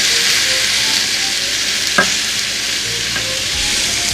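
Red and orange peppers, onions and basil stir-fry in a hot pan with a loud, steady sizzle, broken by a couple of sharp scraping stirs near the middle.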